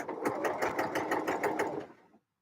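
A sewing machine loaded with jumbo bobbins stitches fast and steadily, its rapid even needle beat close and loud for about two seconds before it stops.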